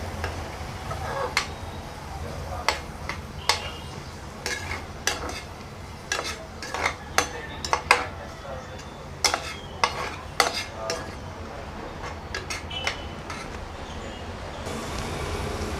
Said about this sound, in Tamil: வெங்காயம் வந்து எப்போயுமே நான் கோல்டன் ப்ரௌன் ஆகிற வரைக்கும் வதக்குவேன்